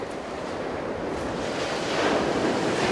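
Wind blows steadily outdoors while a tent is pitched, a continuous broadband rush that swells slightly louder toward the end, with no speech.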